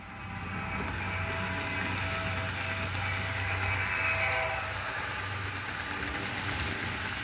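A Santa Fe Super Fleet diesel locomotive rumbles past with a steady low engine drone and broad rail noise, loud and sustained throughout with no speech.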